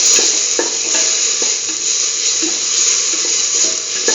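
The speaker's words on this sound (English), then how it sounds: "Keep on sauteing" Tomato pieces are sautéed with a curried lentil mixture, a loud, steady hiss of frying running throughout, with faint stirring clicks scattered on top and no voices.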